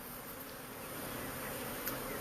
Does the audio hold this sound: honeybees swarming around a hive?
yes